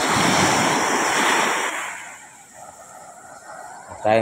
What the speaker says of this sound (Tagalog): may alon talaga